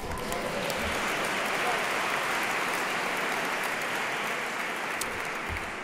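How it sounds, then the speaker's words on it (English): An audience at a graduation closing ceremony in Bruges claps steadily, a broad wash of applause at moderate loudness lasting several seconds, with no clear voice above it. "vous pouvez l'applaudir"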